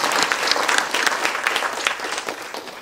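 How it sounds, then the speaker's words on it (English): A conference audience at a valedictory session claps in a dense, loud, continuous burst of many hands. "These are people that we should be raising our hands and clapping for right now."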